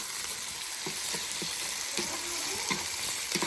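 Rohu fish pieces and potatoes frying in oil in a pan, Odia-style curry prep, with a steady close sizzle and occasional soft stirring clicks throughout, no talk.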